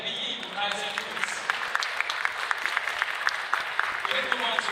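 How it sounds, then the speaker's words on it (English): Audience applause at a national coffee brewing championship finals, a dense, steady wash of clapping with sharper individual claps poking through, held at moderate level throughout with faint room noise behind. "a round of applause for Debbie Yi from Kaiser Foods"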